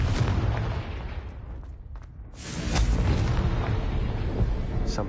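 Confringo spell blast in a video game, a loud booming explosion with a heavy rumbling roar that dips briefly, then surges again into a sustained, noisy burst.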